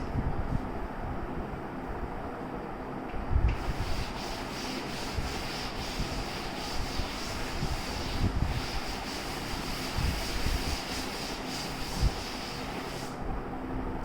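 A board being rubbed clean with a duster, heard as a soft, fairly faint scrubbing that comes and goes in strokes.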